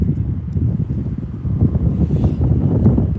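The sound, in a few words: wind at Birmingham airport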